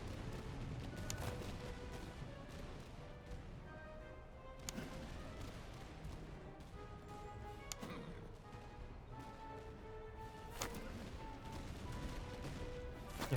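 Musket volleys and scattered shots crackle across a Napoleonic battlefield in the strategy game Master of Command, with several sharp reports at irregular intervals over a continuous rumbling battle ambience, heard from a middle distance.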